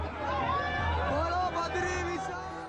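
Crowd of devotees at Badrinath temple chanting praises together, a steady murmuring mass of voices with overlapping chant lines, moderately distant and continuous.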